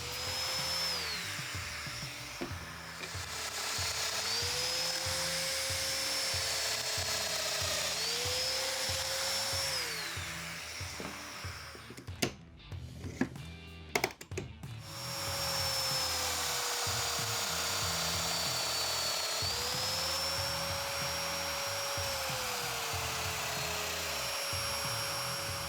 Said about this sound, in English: I'm ready to make some mortises.